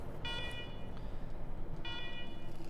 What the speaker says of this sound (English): let's talk after you kill the alarm